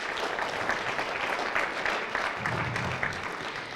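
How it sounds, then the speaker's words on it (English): A room full of people at the 2019 Jackrabbit Athletics Hall of Fame ceremony bursts into steady, sustained clapping that holds at an even level throughout, with no talking over it. "You all deserve a round of applause."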